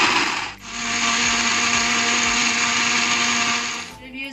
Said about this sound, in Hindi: अब इसको हम ब्लेंड करेंगे ब्लेंडर के अंदर अबाउट 2 से 3 मिनट के लिए